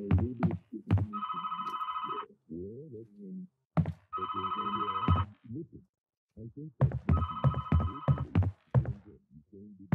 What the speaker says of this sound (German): Ich gehe nicht an das blöde Telefon.